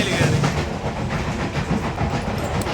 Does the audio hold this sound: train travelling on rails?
yes